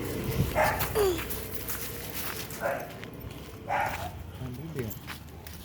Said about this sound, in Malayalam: ഇതവിടെ നമ്മുടെ ഫെർണോ എന്ന് പറയണ നായ അവിടെ നിൽക്കാള് പോണില്ല